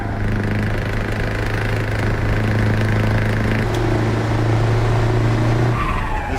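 Scania truck engine exhaust in Euro Truck Simulator 2, a loud, steady droning rumble with a constant low tone that runs unbroken throughout, alone without talk.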